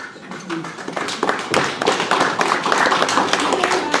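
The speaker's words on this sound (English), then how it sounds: "I am going to ask everyone to please refrain from clapping." Audience applause breaks out at a public planning hearing: a dense patter of many hands clapping at steady loudness over four seconds, with murmuring voices mixed in.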